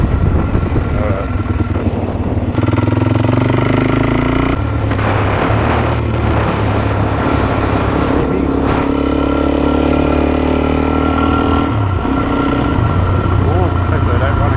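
Suzuki DRZ 400 dirt bike ridden on outback roads toward Quilpie in Australia, a loud, steady single-cylinder engine drone with wind buffeting that rises and shifts pitch, with a rider talking over it.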